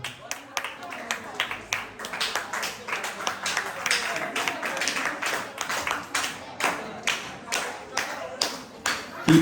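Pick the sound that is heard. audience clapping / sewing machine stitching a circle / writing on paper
audience clapping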